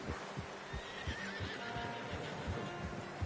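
Horse whinnying in Red Dead Redemption 2, a soft neigh over rhythmic clip-clopping hooves against a dense game ambience, moderately close.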